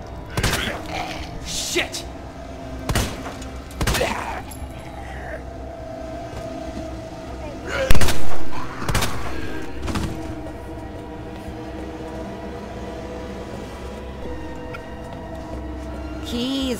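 Gunshots in the video game Resident Evil 2 Remake, a few sharp, loud reports spaced apart over a rumbling game background, with a person talking and exclaiming.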